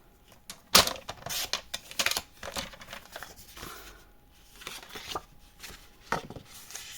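Sheets of Mintay paper cut by hand for a handmade photo album, with a sharp snip near the start followed by a string of soft, irregular cutting and rustling strokes, close and fairly quiet.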